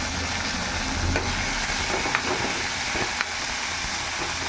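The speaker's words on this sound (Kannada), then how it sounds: "ಕರಿಬೇವು ಹಾಕಿ ಆಮೇಲೆ ಒಂದು ಅರ್ಧ ಮೆಣಸಿನ್ಕಾಯಿ ಉಳ್ಳಾಗಡ್ಡಿ ಫ್ರೈ ಮಾಡ್ತೀನಿ" Curry leaves, green chilli and onion frying in a hot pan, a dense continuous sizzle and hiss with a few faint clinks of a spatula, no one talking.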